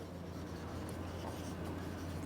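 Handwriting during a maths lesson, a soft continuous scratching of pen or chalk buried in a steady low hum and room noise, with no voices.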